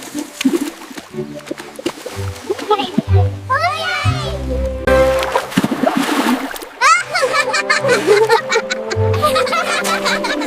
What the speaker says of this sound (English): Splash! Water is everywhere!